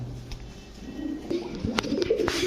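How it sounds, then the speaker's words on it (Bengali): Pigeons coo in soft, low repeated calls close by, mixed with rustling, flutters and a few sharp knocks around the birds. "রানিং পেয়ার কি কবুতর এগুলা"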